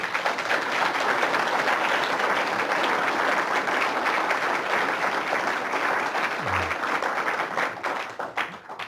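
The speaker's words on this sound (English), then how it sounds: "let's just give them one more round of applause" Audience applause at an achievement awards ceremony, a dense steady wash of many hands clapping at once, loud and continuous before thinning out near the end.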